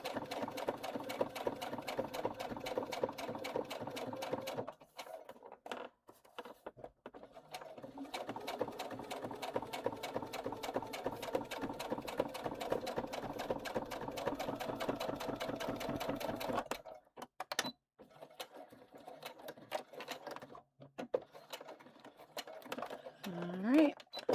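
A sewing machine stitches the seam of a River Walker bag in steady, fast whirring runs close by, with a short pause near five seconds and a break after about seventeen seconds, followed by scattered handling noises.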